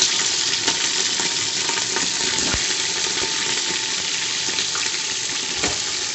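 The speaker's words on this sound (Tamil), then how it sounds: "கறி போட்டு நல்லா வதக்கணும்." Pieces of country chicken sauté in a generous amount of hot oil, giving a steady close sizzle and crackle with occasional stirring clinks and scrapes and no talking.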